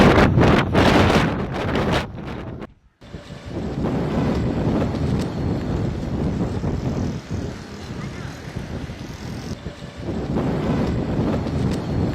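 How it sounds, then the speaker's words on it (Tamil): Strong wind sweeps Chennai's Marina Beach in loud, roaring gusts that buffet the microphone, with a brief drop to near silence before the gusting returns and carries on. "மெரினா கடற்கரையிலும் காற்று வேகமாக வீசியதால் நடைபயிற்சி சென்ற மக்கள் மற்றும் வாகன ஓட்டிகள் அவதி."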